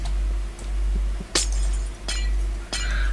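Glass blocks smashed in the Minecraft video game, with about three sharp, bright shattering crashes spaced roughly a second apart over a low steady background hum, with no talking.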